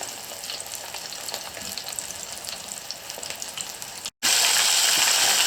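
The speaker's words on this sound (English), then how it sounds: "And I usually fry them till they're nice and buoyant in the oil." Fish fillets deep-frying in hot oil give a steady, loud sizzling hiss, broken by a brief silence before a louder burst of bubbling.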